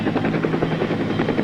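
A Vietnam-era military helicopter flying nearby, its rotor producing a loud, steady rhythmic thumping over a low engine drone, with no voices.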